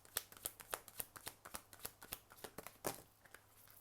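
Tarot cards being shuffled by hand, a quiet, close series of crisp riffling flicks and slaps in an irregular but steady rhythm with no voices.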